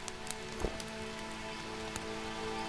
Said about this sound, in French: Il va se remettre à pleuvoir.